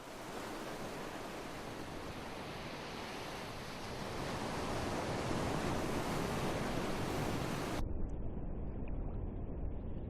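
Ocean surf washing onto a beach where a sea turtle heads back to the sea, a loud, steady broadband roar of breaking waves that swells slightly midway and continues unbroken.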